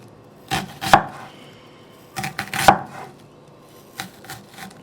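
Knife slicing onion thinly on a cutting board, a few sharp chops in small clusters with quiet pauses between, close and crisp, no talk.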